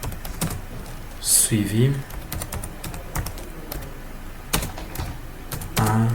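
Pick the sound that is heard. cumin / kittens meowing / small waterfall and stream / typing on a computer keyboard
typing on a computer keyboard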